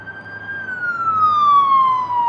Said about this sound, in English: I'm not just talking ambulances driving by